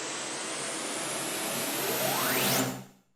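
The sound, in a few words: riser sound effect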